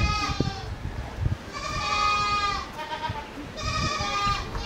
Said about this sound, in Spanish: El amigo tiene a disposición estas cabras.